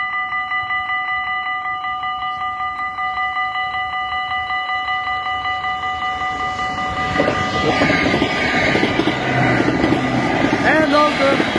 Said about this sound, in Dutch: Oh, nog een trein.